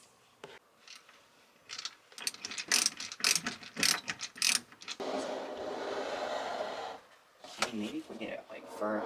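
Ratchet clicks and bursts of mechanical rattling come from unscrewing parts of a closet structure, followed by a steadier grinding stretch, with voices mixed in.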